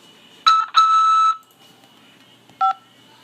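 Electronic beep tones on a prison collect call line, two longer dual-tone beeps followed by a short one after a pause, loud and clean over a quiet line.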